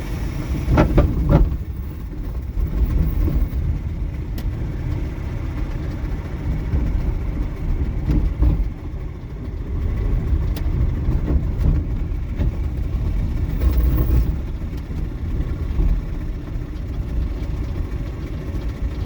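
An electric MG Midget with a damaged motor coasts, giving a continuous rough low rumble and whine at a fairly steady level, with a few brief rattles and knocks along the way.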